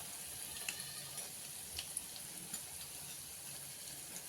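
Spinach bhaji fritters sizzle steadily in hot oil, a dense continuous frying hiss with faint crackles and pops scattered throughout, close and alone with no voices.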